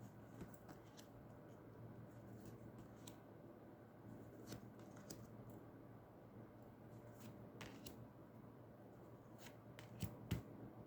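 Tarot cards are shuffled by hand, giving soft, steady riffling and rustling over a faint background hum, with a few crisper flicks and snaps near the end, quiet and close.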